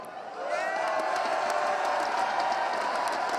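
Arena crowd at the ESL One New York 2016 CS:GO final between Navi and Virtus Pro roars in a sustained, dense wall of cheering and whoops, swelling after a brief quieter start and holding loud throughout.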